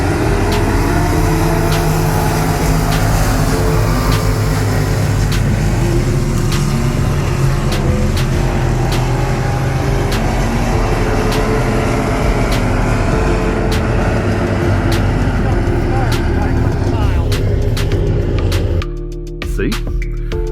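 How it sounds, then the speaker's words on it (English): Race cars roaring around the Batesville dirt track at night, a loud, continuous engine drone with rising and falling revs from several cars, heard from the stands before it drops off abruptly near the end. "Went to the Batesville dirt track races last night."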